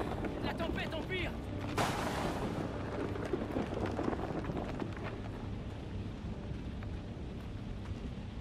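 A worsening storm in the video game Outlast II roars with heavy, rumbling wind and rain, broken by a sharp thunderclap early on, and then a constant loud wash continues.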